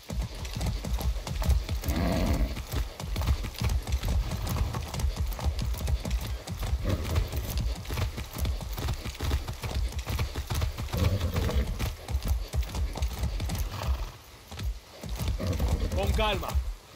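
Horse hooves gallop at a steady pace in Far Cry 6, a continuous rhythmic clatter under game ambience and music, with a rider talking over it.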